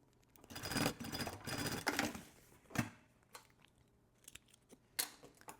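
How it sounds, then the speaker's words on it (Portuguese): Sewing machine running a reinforced seam with several backstitches on a thermal bottle holder, loud bursts of stitching that stop and restart, then scattered clicks and handling noises close by. "passa a costura reforçada aqui com vários retrocessos"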